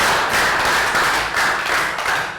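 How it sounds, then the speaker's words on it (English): A Year 3 science class claps together in a short, dense burst of applause that fills the room, loud and close, with no talk over it. "Rounds of applause"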